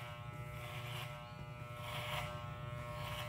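Electric hair clipper with a guide comb buzzing steadily through hair while a mohawk is cut, a continuous mid-level hum with slight rises and no speech.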